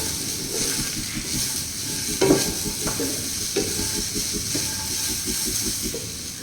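Steady scraping of a spoon through vegetable lemon rice as turmeric is mixed in, with faint sizzling from the pan, one or two louder knocks against the vessel, close and continuous with no talk.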